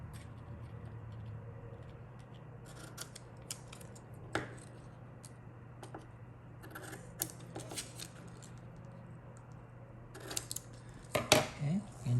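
Scissors cutting kinesiology tape into strips, faint soft snips and clicks scattered over a steady low hum, growing busier and louder near the end.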